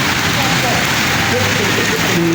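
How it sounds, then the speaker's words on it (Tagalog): Heavy rain pours outside Vista Mall in the Philippines, a dense, steady hiss filling the whole clip with people talking over it. "Malakas yung ulan, guys. Kylie ko, malakas yung ulan."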